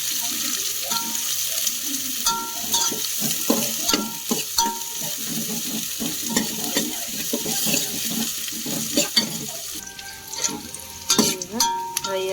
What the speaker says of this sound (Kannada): ಚೆನ್ನಾಗಿ ಫ್ರೈ ಮಾಡ್ಬೋದು